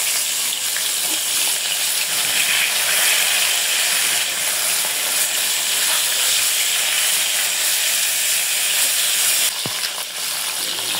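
Pieces of rohu fish coated in salt and turmeric fry in hot oil, giving a steady, loud, close sizzle and hiss that runs unbroken with no talking.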